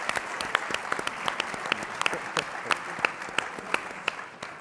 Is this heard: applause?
yes